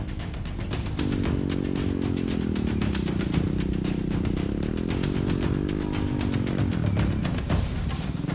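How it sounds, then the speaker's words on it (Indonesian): A motorcycle taxi engine runs steadily and loud on a narrow, slippery plantation road in a remote Indonesian village, its mid-pitched drone rising and wavering with throttle changes and rattling over the rough track throughout. "Ojek motor satu-satunya yang menjadi alternatif transportasi."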